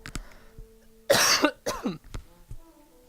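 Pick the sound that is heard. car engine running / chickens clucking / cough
cough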